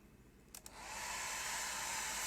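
A hairdryer drying a wet watercolour painting of a river scene whirs up after a couple of faint clicks, then blows steadily and closely as a loud, even rush of air.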